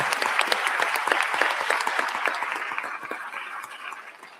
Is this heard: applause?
yes